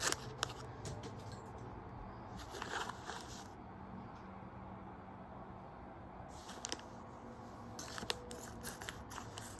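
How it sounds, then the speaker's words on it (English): Close, crinkly rustling of a plastic mystery bag with several bursts of scissors snipping it open, quiet and irregular, no talking. "Use the scissors."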